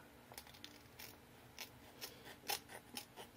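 Scissors snip through artist trading card material in a quiet room, a series of soft, crisp cuts spaced irregularly over a few seconds, close and faint.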